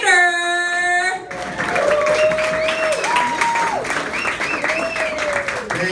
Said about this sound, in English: Give it up, make it loud for Andrew Slater.